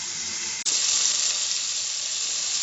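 Crabs frying in a pan for spicy tomato crab give a steady, close sizzle with hiss throughout, broken by one brief dip near the start.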